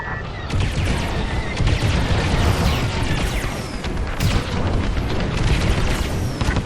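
A starship blown apart in the Star Wars: Squadrons space-combat game, a dense rumbling explosion with crackling debris bursts sustained for several seconds amid ongoing battle noise.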